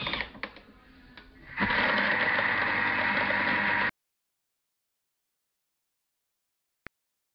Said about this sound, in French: Et là donc on va mixer pendant 1 minute, vitesse 3.